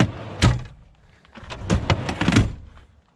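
A heavy ARB storage drawer slides open and shut in the back of a Toyota Fortuner, with rolling rumbles and a few sharp clunks as it reaches its stops.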